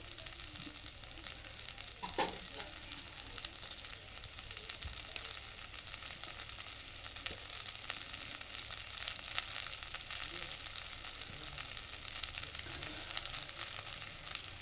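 Spices crackling and sizzling in hot oil for a tempering, a steady busy hiss with tiny pops throughout, close by and fairly quiet, with no voices.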